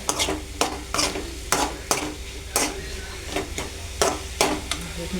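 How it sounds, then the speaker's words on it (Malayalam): Spinach cooking in a pan on a low flame gives a soft sizzle under repeated sharp scrapes and taps of a spoon stirring against the pan, in a steady rhythm of about two strokes per second. "ഫ്ലെയിം കുറച്ച് ചെറുതീരിട്ട് ഒന്ന് വേവാം"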